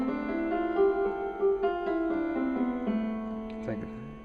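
Piano notes stepping one after another up a white-key scale starting from A, a minor scale, played alone at a moderate pace and ringing softly.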